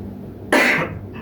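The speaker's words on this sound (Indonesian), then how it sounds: "Maaf saya batuk." A single loud cough bursts out abruptly from a quiet indoor room and trails off within half a second, with no talking over it.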